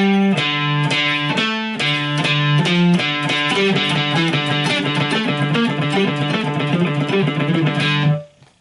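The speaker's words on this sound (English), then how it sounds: "this lesson's all good for working your alternate picking skills, picking individual notes" Electric guitar playing an alternate-picking exercise, individual notes picked steadily in quick succession with a slightly effected, driven tone, loud and alone for about eight seconds before stopping.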